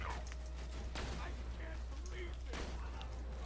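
Gunfire in the video game Borderlands 2, with sharp broadband shots near 1 and 2.6 seconds standing out over a steady low game hum, while people talk throughout.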